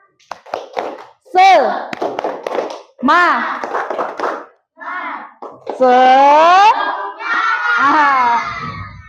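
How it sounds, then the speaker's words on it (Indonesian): An Indonesian classroom of students performs a rhythmic spirit clap during an Islamic religious education lesson on zakat. Quick bursts of clapping are mixed with loud group chanting and children's shouts, close by. "Tepuk semangat."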